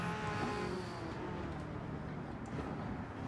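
Race cars jostling to overtake in Gran Turismo 7 on the reversed Nurburgring Nordschleife, a steady engine drone at moderate level with a faint tire squeal, no voices.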